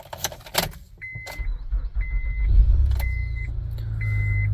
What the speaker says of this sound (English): Now you proceed inside and start the vehicle.